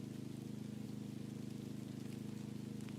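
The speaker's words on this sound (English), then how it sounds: "Yeah, this is just a little shower." Light rain shower in the video game SCUM, a soft, steady patter with a faint low rumble, quiet and unbroken.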